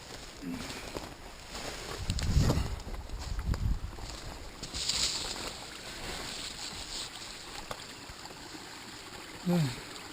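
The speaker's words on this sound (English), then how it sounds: "Hear the river running." A river runs steadily beside a rocky, tangled bank on a sunny day, its broadband rush staying in the background throughout, with brief nearby rustles and knocks and a short sound near the end.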